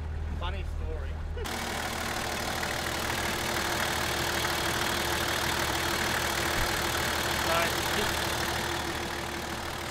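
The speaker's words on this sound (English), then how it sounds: "I've just turned the ignition off and the engine's still running" A car engine keeps idling with a steady, rough mechanical rumble after the ignition is switched off, running on continuously at close range. A voice is heard briefly near the start.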